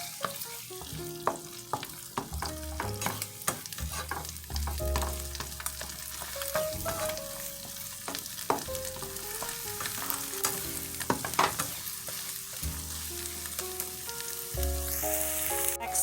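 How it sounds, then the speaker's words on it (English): Eggs being scrambled and frying in a pan for shrimp fried rice, a steady sizzle broken by scraping stirs, with faint music in the background and no talking. "put your eggs in there to cook. Just go ahead and cook your eggs"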